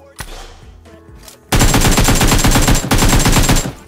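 Gun firing in the video game PUBG: after a quiet stretch with faint clicks, a loud, sustained automatic burst of rapid shots starts, pauses briefly and then resumes, with no talk.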